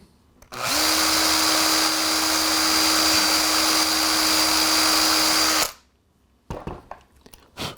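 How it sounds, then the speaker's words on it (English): A loud electric drill whines steadily for about five seconds at close range, boring a 3mm hole in model railway freight rolling stock, then stops, followed by a few light clicks and knocks. "I'm going to follow it with a 3mm drill."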